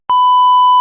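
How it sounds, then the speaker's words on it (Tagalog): A cellphone gives a single clean, steady electronic beep lasting under a second, loud and alone. "Ano yun? Yung cellphone mo?"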